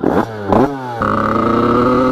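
A 50cc motorbike engine revs loudly close by, its pitch climbing, dropping and then holding at a high steady whine.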